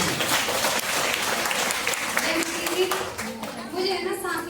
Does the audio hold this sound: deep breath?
no